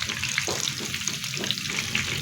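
Fish sizzles and spatters loudly in hot oil in a pan, with a constant dense crackle and scattered sharp pops, close up and without voices.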